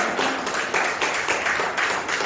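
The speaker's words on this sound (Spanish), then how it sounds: "Dele un aplauso al Señor" A church congregation claps steadily together, a dense wash of applause that swells slightly in rhythmic pulses.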